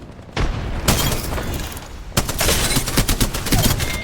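Rapid bursts of automatic weapon fire in the Apex Legends video game, with a short volley followed by a longer stretch of dense, punchy shots and occasional louder cracks, no talk over it.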